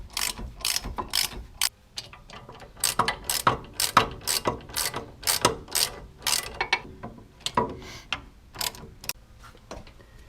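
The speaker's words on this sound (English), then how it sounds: "Now torque these 4 bolts to about 85 foot-pounds." A ratchet wrench torquing the four wheel hub bolts down on a Ford Crown Vic, a loud, close run of rapid clicking bursts in uneven rhythm with brief pauses between strokes.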